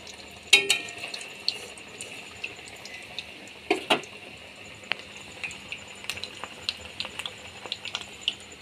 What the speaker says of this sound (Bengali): কাঁচকলা আর কোপ্তাগুলো ভালো করে ভেজে নিয়েছি।